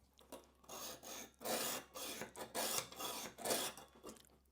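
A tweezer sharpener grinds the second side of a pair of tweezers with repeated rasping strokes, roughly eight bursts in a steady back-and-forth rhythm, close up over a low constant hum.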